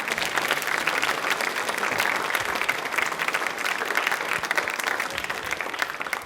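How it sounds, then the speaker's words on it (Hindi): An audience at a general knowledge quiz show gives loud, dense, sustained applause for the RBI, clapping evenly throughout without a break. "तो एक बार आरबीआई के लिए तालियां हो जाए जोरदार वाली"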